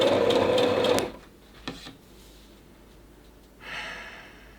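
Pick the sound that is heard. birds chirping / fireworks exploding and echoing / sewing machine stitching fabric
sewing machine stitching fabric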